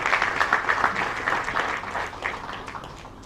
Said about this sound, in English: Another round of applause for you, please.